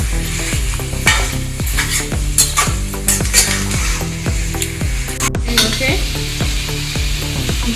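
Mutton pieces stirred in a hot pan for a Bengali mutton curry, with loud steady frying sizzle and regular scraping strokes of a spoon against the pan roughly every half second, no talking.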